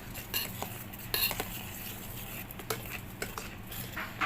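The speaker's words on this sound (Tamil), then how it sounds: "இப்போ நான் இதை நல்லா கலந்து விட்டுக்க போகிறேன்." Asafoetida and turmeric powder mixed in a bowl with a spoon for a tomato gravy, heard as quiet, irregular clinks and scrapes of metal against the dish, close by and faint.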